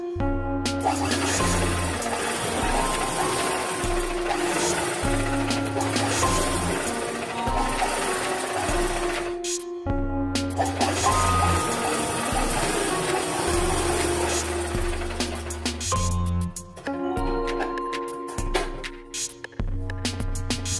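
A sewing machine stitches a child's cotton summer frock in steady, loud runs of rapid needle rattle. It pauses briefly between seams and carries on alone, with no talk.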